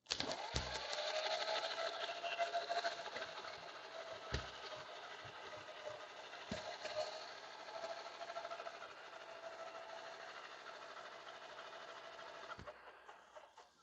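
An old Saxon motor car engine being spun over, a steady mechanical whirring with a faint rapid knock that runs evenly for most of the stretch, then cuts off near the end.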